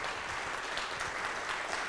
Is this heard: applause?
yes